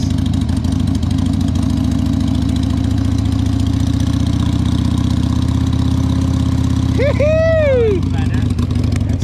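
A 2002 Harley-Davidson Sportster motorcycle engine idles steadily and loud up close after a carburetor cleaning, a continuous low throbbing rumble throughout, with a brief voice cutting in near the end.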